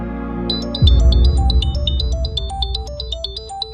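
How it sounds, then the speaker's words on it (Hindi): A phone ringtone plays for an incoming call, a repeating bright melodic tone pattern that starts after a low rumble and continues steadily and loud. "मीठी का फोन।"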